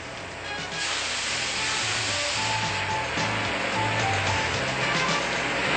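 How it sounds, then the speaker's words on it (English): A cutting torch on a Mini-Mantis II beam cutting machine is lit and preheating on a steel beam, giving a steady, close, even gas hiss that holds throughout. "You run the torch to the vertical limit, light the torch, and begin the preheat."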